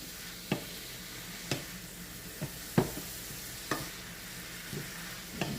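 Cabbage stir fry for a Jamaican Sunday dinner hisses quietly in a pan, a soft steady sizzle broken by regular sharp clacks of stirring roughly once a second.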